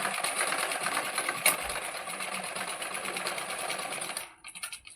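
A sewing machine runs steadily while stitching tucks into blouse fabric, a close, continuous mechanical whir with a brief clack partway through, stopping just before the end and leaving faint handling noises.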